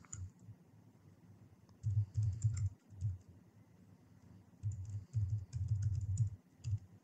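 Typing on a computer keyboard, bursts of quick, soft key clicks with short pauses between runs, close and fairly quiet with no speech.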